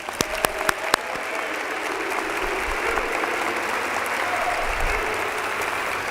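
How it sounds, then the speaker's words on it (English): A few sharp, separate claps open, then the audience at the 2023 SPIDYS awards ceremony settles into a broad, steady wash of applause that holds evenly at moderate volume from a sizeable hall crowd. "Give them a round of applause, please."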